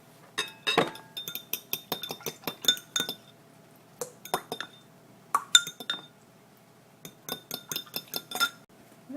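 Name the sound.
egg being mixed in a bowl, clinking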